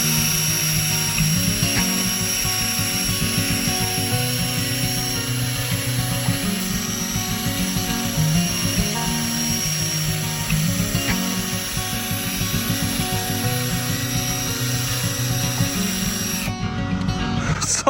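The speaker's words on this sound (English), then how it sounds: "I have this drill bit attachment, which I use to sand pieces." A power drill with a sanding bit attachment grinds a corroded metal mailbox, making a continuous loud whirring drone with rough scraping that holds steady for about seventeen seconds before cutting off, with no voices.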